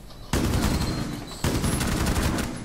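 Heavy gun firing in a terrorist-themed shooter video game, two sustained bursts of loud, dense automatic gunfire, the first starting abruptly and a second burst kicking in just after, close and continuous with no talk.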